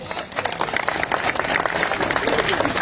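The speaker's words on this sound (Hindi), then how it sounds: "एक बार जोर से तालियां।" Crowd applause breaks out at a political rally honoring a BJP leader in Kumawas village, a dense, steady patter of many hands clapping close by with some voices mixed in.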